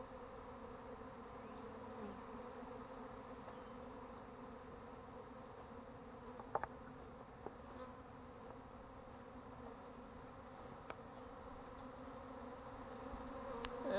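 A honeybee swarm buzzes around a hive box outdoors, a faint, steady droning hum that holds for the whole stretch, with a few small clicks and no speech.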